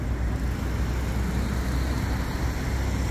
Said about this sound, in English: And now you've got this big truck coming again.